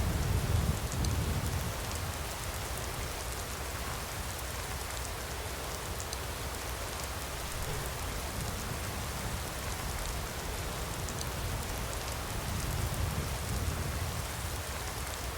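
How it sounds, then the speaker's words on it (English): Steady rain falls in the game Skyrim, a soft, even hiss of many drops on surfaces that holds constant throughout with no break and no voices. "This rain will stop eventually."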